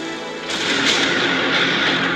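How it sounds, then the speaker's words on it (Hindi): An explosive blast blows up a house, heard as a loud, rumbling burst of broad noise that swells and lingers for a couple of seconds with no voices. "चौथे घर को कुछ इस तरह उड़ाया गया और ये पांचवें घर की बारी।"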